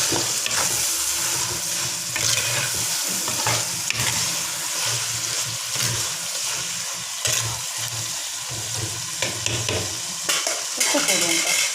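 Chicken pieces sizzling loudly in hot oil in a pan for chicken curry, with steady frying hiss and repeated scraping, clanking stirs of a spoon against the pan, close and continuous.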